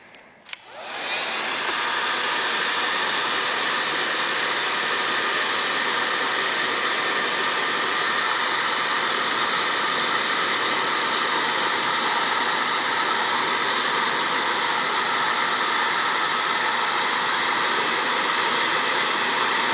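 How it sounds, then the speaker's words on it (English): Steady, loud rushing hiss of a heat gun aimed at the heat riser on a Willys engine, starting after a click and a brief spin-up and then holding unbroken with no talk. "We're going to put the heat gun to it."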